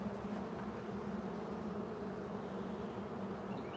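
Honeybees hum around an open beehive, a faint, steady buzz that carries on without a break and with no talk over it.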